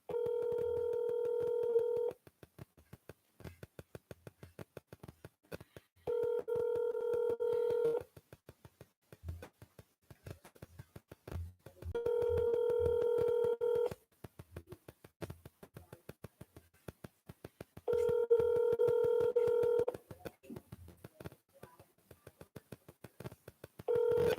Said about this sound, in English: I'm going to do a follow call here. Let's see if someone answers the phone.